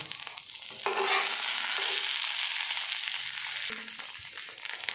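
Paneer masala wrapped in banana leaf fries on an oiled dosa pan with a steady, broad sizzle, broken by a few scraping stir sounds as the parcel is turned.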